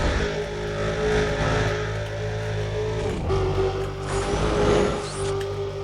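Car speeding up along a highway in the racing video game Need for Speed: Undercover, a steady engine drone with a rising whine and game effects layered over it, loud and continuous.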